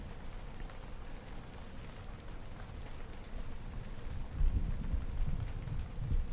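Heavy thunderstorm rain falls as a steady, moderate wash of noise, with a low rumble swelling partway through and the downpour continuing to the end.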